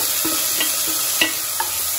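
Chopped tomatoes frying in a pan, a steady close hiss of sizzling with a few sharp spatula taps and scrapes cutting through, no voices.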